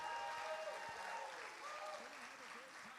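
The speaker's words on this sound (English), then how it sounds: "how about a special round of applause for a past winner and sponsor?" Audience applause at a business competition event, a dense clatter of many hands clapping steadily for about three seconds, with a voice speaking faintly over it.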